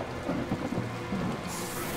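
Cartoon thunderstorm effect of steady rain with low rolling thunder rumbles, a continuous wash of noise at moderate volume with no voices.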